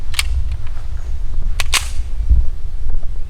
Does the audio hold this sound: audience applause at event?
no